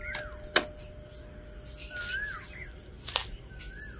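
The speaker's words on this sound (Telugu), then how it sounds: "మంచిగా బర్డ్స్ పాటలు పాడతా, చల్లగానే ఉంది" Birds call outdoors in cool weather, with faint, scattered chirps and short whistles over a steady insect drone, and two sharp clicks stand out.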